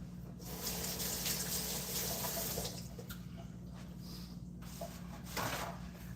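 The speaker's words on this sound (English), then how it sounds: "Wash my hands for a minute." Kitchen tap running while hands are washed, a steady close splashing stream with brief interruptions and shifts as hands move under the flow.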